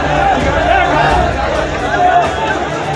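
A large crowd of angry protesters fills the air with a constant roar of overlapping shouts and babble, loud and close throughout with no pauses.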